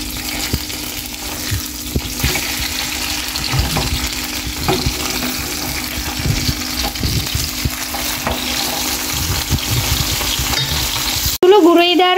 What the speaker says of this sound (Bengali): ছোলো করে দিয়ে আমি মাছগুলো ভেজে নেব